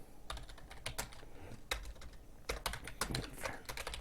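Quiet typing on a computer keyboard, a quick irregular run of key clicks in two short bursts, close and alone without any voice.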